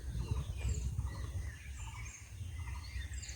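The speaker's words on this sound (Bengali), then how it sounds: "কত রকম যে পাখি যাচ্ছে শুনুন" Several birds call at varied pitches across a spring morning near hills and a homestay, with scattered chirps over a steady low rumble of wind.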